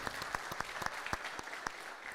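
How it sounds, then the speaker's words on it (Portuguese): An audience at an agronomy lecture applauds an agronomist speaker with scattered, distinct hand claps that repeat unevenly over a couple of seconds, moderately close, with no talking. "Convido a todos a dar uma salva de palmas, então, ao engenheiro agrônomo Fernando"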